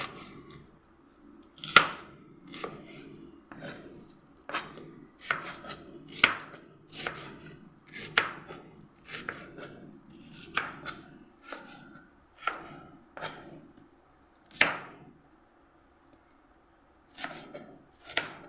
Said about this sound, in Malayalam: നമുക്ക് ഉള്ളി മുറിക്കാം ഇങ്ങനെ ഇങ്ങനെ ഒരു സ്റ്റൈലാണ് ഉള്ളി മുറിക്കുന്നത്